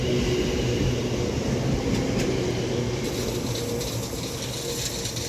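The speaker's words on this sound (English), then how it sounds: "This double West Midlands Railway class 730 is forming the 1409 West Midlands Railway service to Bromsgrove via Birmingham New Street" A double West Midlands Railway class 730 electric unit runs through Lichfield Trent Valley station. A loud, continuous rumble with clattering and ratcheting mechanical noise holds steady throughout, with no talk.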